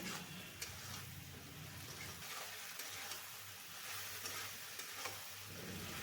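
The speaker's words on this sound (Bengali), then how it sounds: "এরপরে সমস্ত কিছু খুব ভালো করে কষিয়ে নিতে হবে" Potatoes with chili powder sautéing in a pan for an egg and potato curry, a faint, even frying hiss with a few soft stirring taps, steady throughout and without voices.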